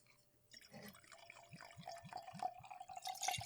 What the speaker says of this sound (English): let's go ahead and pour this Ine Mankai